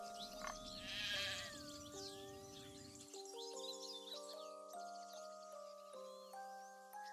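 Sheep in the game Craft The World bleat repeatedly over a gentle plucked musical background, with the cries wavering up and down and fading in and out at moderate loudness.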